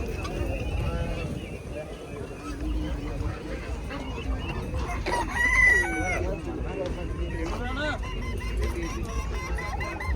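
Roosters crow and chickens cluck amid a busy crowd at the Muktsar Sahib horse fair, with goose honks and people talking throughout the noisy market bustle.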